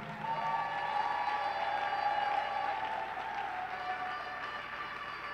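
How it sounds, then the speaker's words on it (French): A church congregation applauds at a worship service, with steady, sustained clapping that stays loud and even throughout, while a sustained musical tone rings underneath. "acclame bien"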